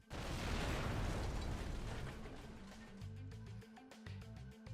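Clay bombs exploding in the video game Tsui no Stella, a loud broadband blast that rolls into a deep, rumbling decay over several seconds, with no other sound over it.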